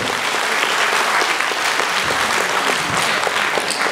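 A crowd applauds a guest of honour at a Russian political gathering, dense sustained clapping that is loud and even from start to finish.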